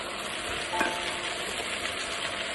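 Spices being stirred in a cooking pan for a fish, potato and stem curry, a steady faint scraping with soft continuous sizzling throughout, no voices.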